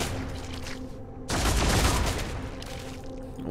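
Gunfire erupts in Warhammer 40,000: Deathwatch, a dense volley of loud, close shots crackling together for about a second after a brief lull of softer sound.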